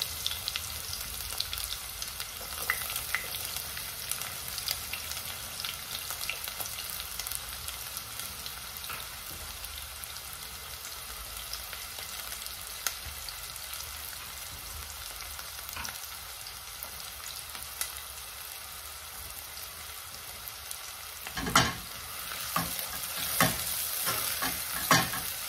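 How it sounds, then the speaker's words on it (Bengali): Onions fry in hot oil in a pan with a constant, moderately quiet sizzle, broken by occasional scraping stirs that grow louder and more frequent toward the end. "ভালোভাবে পেঁয়াজগুলোকে একটু ভেজে নিতে হবে লাল করে।"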